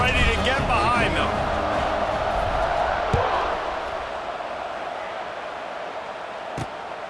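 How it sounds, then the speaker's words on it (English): A football stadium crowd waits for the kickoff, a steady loud roar of many voices filling the air, with one sharp thud about midway and a gradual easing of the noise toward the end. "They're set to kick it off, and this crowd now ready to get behind them."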